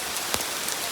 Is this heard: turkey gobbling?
no